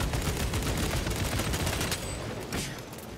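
Dense enemy gunfire in Warhammer 40k: Space Marine 2, a continuous loud barrage of rapid shots with heavy low rumble, close and unbroken throughout.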